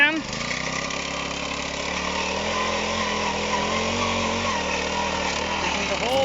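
A petrol post hole auger runs steadily while digging a fence post hole in a backyard, a loud, close, continuous engine drone with a brief surge at the start and no pauses.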